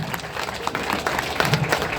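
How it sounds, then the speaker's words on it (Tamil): An audience claps at a ceremony as a professor is called to the stage, a steady dense burst of applause from a crowd with a few louder claps, heard fairly close throughout. "எல்லாம் கைத்தட்டுங்க"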